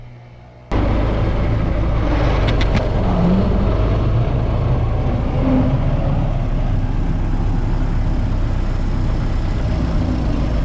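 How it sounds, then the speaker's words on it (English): A Model T engine runs steadily up close, with a continuous low mechanical growl from its transmission and no talking. "This car, the transmission's a little growly on it, but that's normal for a Model T."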